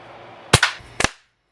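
A restored classic Benjamin 312 .22 air rifle fires with a sharp close crack, followed by a second crisp report, then quiet.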